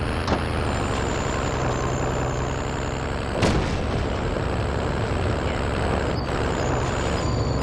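Armored vehicle driving in Call of Duty Warzone, a steady heavy engine rumble with hissing, brake-like bursts and clanks, loud and continuous throughout.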